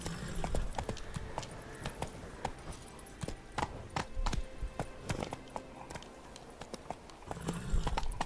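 A horse's hooves clop rhythmically at a gallop in The Witcher 3: Wild Hunt, a steady fast beat of close, fairly quiet hoof strikes with leather and tack noise, no voices.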